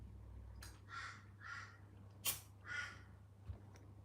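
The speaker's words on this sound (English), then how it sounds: "The crows seem to be out today again." Crows caw four times outdoors at a moderate distance, fairly faint, with short gaps between calls and no talking.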